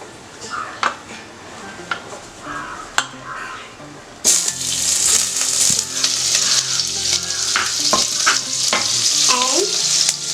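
Oil and then butter hitting a heated pressure cooker on the stove: a faint crackle with a few clinks, then a sudden loud, steady sizzle that keeps going with utensil taps.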